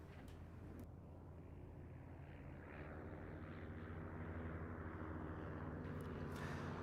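An Auster Autocrat light aircraft flies at an air show, a faint, distant engine drone with a low steady rumble that swells slightly toward the end, with no talk over it.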